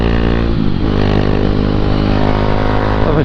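A KTM 390 Duke single-cylinder motorcycle ridden in traffic, its close, loud engine droning steadily with a brief throttle dip and rise, wind rush over it.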